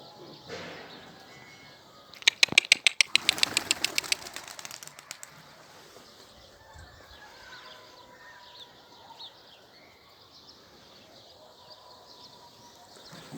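A friend's pigeons in their loft, with a burst of wing flapping or clattering near the start and soft cooing and rustling through a quiet background.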